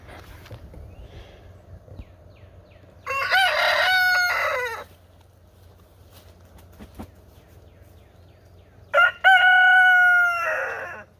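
A rooster crows loudly twice, the calls a few seconds apart against a quiet outdoor background.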